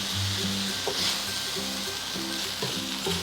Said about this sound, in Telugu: ఇప్పుడు టమాటా ముక్కలు వేసుకుందాము.